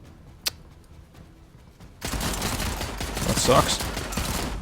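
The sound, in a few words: gunfire in a tactical video game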